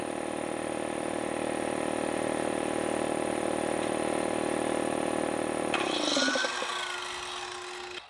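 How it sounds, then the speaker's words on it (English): A circular saw briefly spins up alongside a steadily running air compressor, both powered by a portable power station; the compressor's loud, even drone cuts out abruptly as the saw's high whine surges and winds down, with no talking. "Let's see if we can throw in a circular saw."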